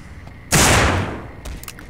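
A revolver gunshot in No More Room in Hell, one loud, sharp blast with a decaying tail, then a fainter follow-up thud.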